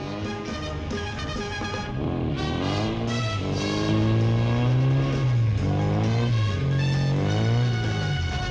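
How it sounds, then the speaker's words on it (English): The 28-horsepower rear-mounted engine of a small amphibious all-terrain buggy drones and revs close by, its pitch rising and falling repeatedly as the vehicle accelerates and eases off. "The 28 horsepower rear-mounted engine has a top speed of 60 miles an hour."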